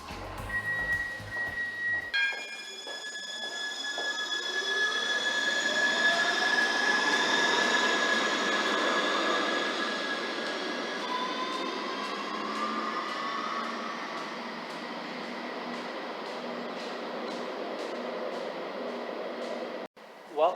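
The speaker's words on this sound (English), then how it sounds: "Trams going through this tunnel will eventually end up at the upper platforms of the Hague Central Station" HTM electric tram running through the underground tram tunnel in The Hague, rumbling loudly and steadily with rising and falling wheel and motor whine echoing in the enclosed tunnel, a long continuous pass with no talking.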